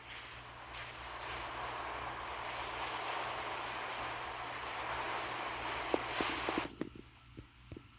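Fighter aircraft squadron launching in the Naval Creed naval combat game, a steady droning propeller engine roar that holds for several seconds, then gives way to sparse clicks and light thumps.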